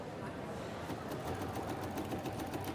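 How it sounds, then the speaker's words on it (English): A sewing machine fitted with a cut work foot stitches around the outline of a record shape, a fast steady mechanical whir that runs continuously and close by. "It's going to stitch the outline of my record."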